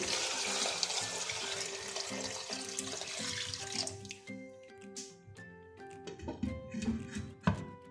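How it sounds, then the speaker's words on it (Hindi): Water is poured in a steady stream into a pot of beef nihari, running loud at first and then thinning into scattered drips and splashes toward the end. "अब गोश्त को गलाने के लिए इसमें मैं 2 लीटर पानी ऐड करूंगी।"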